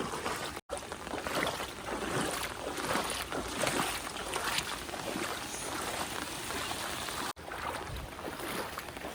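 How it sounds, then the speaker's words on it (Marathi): Rushing muddy floodwater roars steadily and broadband throughout, a swollen stream brimming after a cloudburst and flowing hard with a constant turbulent wash and no voices. "पूर्ण गदूळ पाणी आणि पूर्ण तुडुंब व्हाळ भरला आहे"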